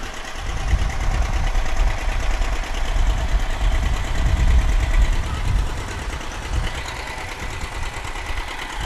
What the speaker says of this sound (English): I like the sound of those old tractors. Nice, good rhythmic sound.